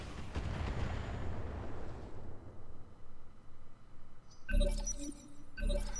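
Heavy weapons fire pounding mechs in the Roguetech BattleTech video game: a long rumbling explosive roar that fades, followed by two bursts of impacts with metallic clinks.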